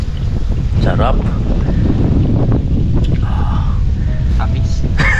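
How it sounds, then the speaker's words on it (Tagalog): Steady wind roars across a boat at sea, a loud continuous broadband rush with buffeting on the microphone, while people talk intermittently over it throughout. "Ang hangin."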